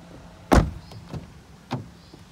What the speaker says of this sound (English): front electric windows with electric wing mirrors